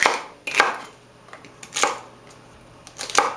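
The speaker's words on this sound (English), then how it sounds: "So it's going to be a little bit of chopping." Vegetables for a roasted vegetable curry with shiitake mushrooms are chopped on a board, four sharp knife strikes spaced about a second apart, close and crisp against a quiet room.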